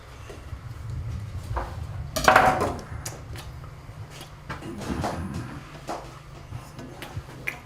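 Mushrooms go into a frying pan, giving a clattering burst of pan and utensil noise, then softer scraping and knocks against a low steady hum, with no talk over it.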